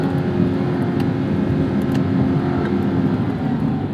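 A 2021 Corvette C8 Z51 engine in its most aggressive mode drones loud and steady from inside the cabin, a continuous low rumble without a distinct rise in pitch.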